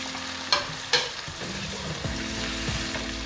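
Ingredients sear in a hot pan with a continuous close sizzle, broken early by two sharp clacks of a utensil against the pan, then bubbling on without speech.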